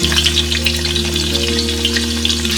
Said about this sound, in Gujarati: ઓનિયનને આપણે થોડી લાલ કરી દઈએ.